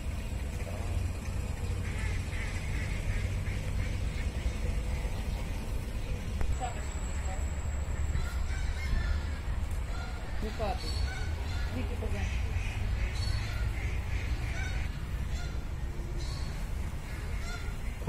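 Geese honk repeatedly at a zoo, scattered calls rising over steady background rumble and a murmur of voices.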